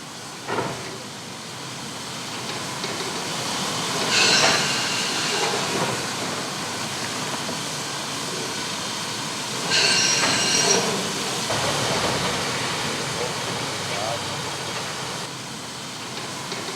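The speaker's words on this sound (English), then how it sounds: "our Kriegslok is prepared at the Graz depot for the next day's special trips" A Kriegslok steam locomotive being readied at the Graz depot in winter, with a steady hiss of steam and rail yard rumble, and two louder bursts of venting steam standing out partway through.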